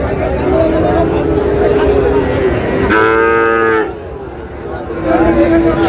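Cattle moo at a weekly livestock market in Satganj Raniganj, Kushtia, where Sahiwal bull calves are sold; one loud, drawn-out moo rises over constant crowd chatter and someone talking, with fainter lowing around it.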